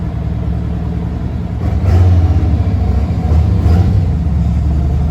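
A vehicle engine runs nearby with a loud low rumble that grows slightly heavier partway through, steady and continuous with no speech.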